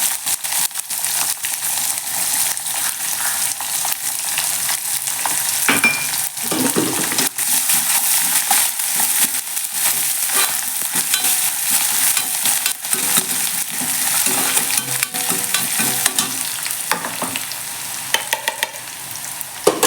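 A small handful of chopped onions frying in a pan for Tamil-style mint rice, a continuous bright sizzle with frequent stirring clinks and scrapes, close and loud throughout.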